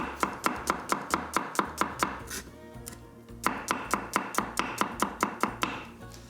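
A knife chops rapidly through onion and garlic on a cutting board with a guillotine-style motion, crisp evenly spaced thuds in two quick runs separated by a short pause, close and clear with no talking.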